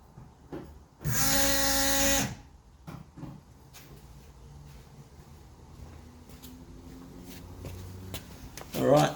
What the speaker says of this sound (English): Turn the fuel pump back on and let's see if it makes any difference.